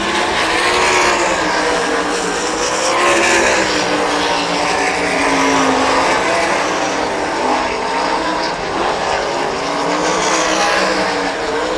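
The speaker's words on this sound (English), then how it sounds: "He stretches lead out to a straightaway now as cars line up single file." Sprint cars race single file around a dirt track during a heat race, their engines roaring loud and close in a steady, continuous howl with shifting pitch as they pass, and no talk over them.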